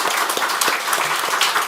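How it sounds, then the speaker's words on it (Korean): A church congregation applauding, a dense steady patter of many hands clapping at once, filling the whole short moment without a break. "이 시간 우리 박수로 축하하겠습니다."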